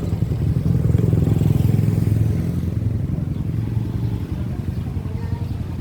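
A motorcycle ride with the engine droning low and steady close by, a rumbling hum that eases slightly toward the end, with a faint rattle over it and no clear speech.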